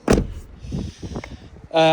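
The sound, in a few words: diesel filler flap opened on Autosleeper Symbol motorhome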